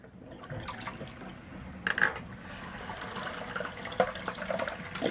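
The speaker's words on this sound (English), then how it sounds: "Rinsing off the razor head just to get all that extra gunk" Running water splashes steadily over a razor head being rinsed, a continuous faucet-like wash with a few brief louder splashes and clatters, close by and without talk.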